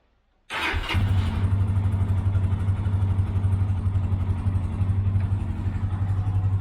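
A Lifan motorcycle engine fires up cleanly on a mild December day, catching abruptly after a moment of silence and then settling into a steady, close, loud idle with an even low throb.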